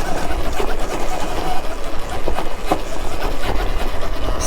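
A Surron Ultra Bee electric dirt bike fitted with a 52-tooth sprocket climbing a bumpy trail hill, its loud steady drivetrain whine mixed with rough rubbing and rattling, close and continuous.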